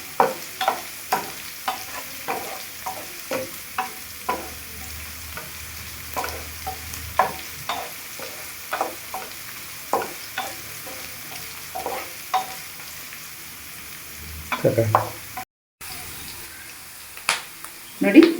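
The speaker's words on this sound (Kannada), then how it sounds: "ಅದ್ರಾಗೆ ಒಂದು ಸ್ವಲ್ಪ ಕರಿಬೇವು ಸೊಪ್ಪು ಹಾಕ್ತಾಯಿದ್ದೀನಿ. ಚೆನ್ನಾಗಿ ಬಡಿಸ್ಬೇಕು." Curry leaves fry and get stirred in a pan while making ragi shavige bath, with a steady run of short spatula scrapes and clicks over a low sizzle, and a slightly louder clatter near the end.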